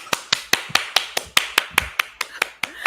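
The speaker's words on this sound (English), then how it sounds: "I'll go ahead and give Ron a hand clap myself" A single person claps hands in a steady rhythm, about fourteen sharp, close claps in under three seconds, with no voices.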